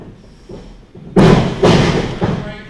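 Punch landing on the temple during a professional wrestling match, a sudden loud thump followed by further heavy thuds and crowd noise in an arena.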